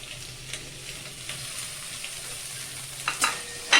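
Carrots and okra fry in a pan for a sambar dal, a soft, steady sizzle close by with a few sharper spatters and clinks near the end.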